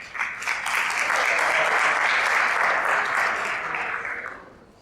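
A school recital audience at a Tri-M spring concert breaks into applause that swells quickly, holds as a dense round of clapping for a few seconds, then tapers off.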